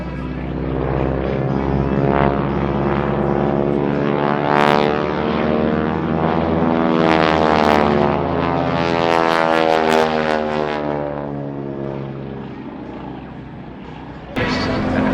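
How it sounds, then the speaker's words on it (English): A warbird propeller aircraft roars past at an air show, its prop tips buzzing loud and harsh as the pitch sweeps down through a long flyby, fading toward the end before a sudden burst of noise. "the sound of the is actually not so much that of the engines, but rather the propeller tips going supersonic"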